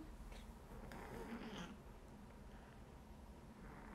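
A cat gives a faint, brief purring or meowing sound in a quiet room, barely rising above a low background hum.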